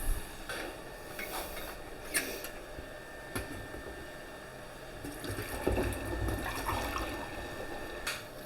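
Chemsan sanitiser solution running out through the tap of a home-brew fermenter into a bottle, a steady close trickle and splash of liquid with small drips, continuing throughout with no talking.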